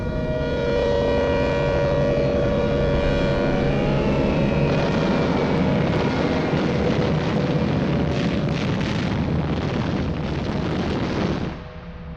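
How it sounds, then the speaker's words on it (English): Bomber aircraft fly over Chongqing during wartime bombing raids with a loud, continuous droning roar. The drone carries sustained tones that slowly shift in pitch, then drops off abruptly near the end. "But there was no escaping the bombers."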